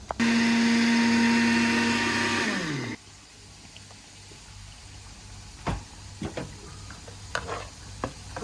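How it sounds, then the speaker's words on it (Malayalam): A mixer grinder whirs loud and steady while blending sugar, milk powder and milk for carrot halwa, then winds down and stops after about three seconds, followed by quiet room tone with scattered clicks and handling knocks. "പിന്നെ കുറച്ച് പാൽപ്പൊടി, കുറച്ച് പാൽ വെച്ചിട്ട് കറക്കി കൊടുക്കാൻ പോകും."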